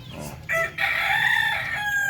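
A darag rooster kept in a new coop crows once, a loud, close, drawn-out call lasting over a second, with quieter farmyard sounds before it.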